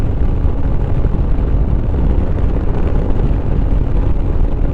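A Lifan KPX 250 dual-sport motorcycle cruises at about 70 mph, with a steady, loud engine drone blended into heavy wind rush, unbroken and without speech.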